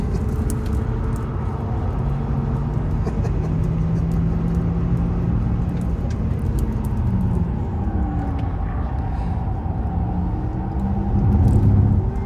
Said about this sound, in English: Full throttle now